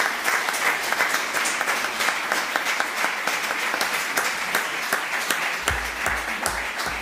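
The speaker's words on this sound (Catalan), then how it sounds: "Fort aplaudiment, si plau" Hearty applause fills the hall at a youth recognition ceremony in Pla de l'Estany, a continuous crackle of many clapping hands at steady volume, with a low hum creeping in near the end.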